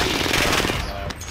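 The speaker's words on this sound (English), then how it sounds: "I'm taking fire." Loud, dense gunfire from the video game Warzone, a sustained burst of rapid shots that thins out near the end.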